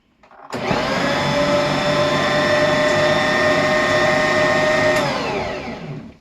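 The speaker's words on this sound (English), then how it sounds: "All of my wet ingredients are in my mixer. I'm going to add my lid so I don't make a mess, and then we will mix." A Bosch stand mixer runs with its lid on, beating wet pumpkin muffin ingredients. Its loud, steady motor whine starts abruptly, holds for about five seconds, then winds down.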